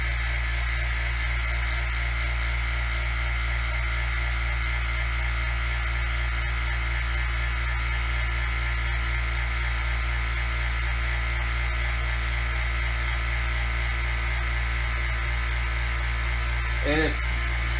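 Vacuum pump pulling vacuum on a sealed wood stabilization chamber, giving a steady, constant electric hum and buzz with faint static throughout, and a brief clatter near the end.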